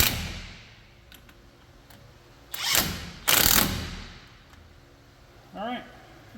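An impact gun with a universal impact socket tightens a brake caliper bolt on a 2002 Silverado, firing two short, loud rattling bursts close by, with a brief voice afterward.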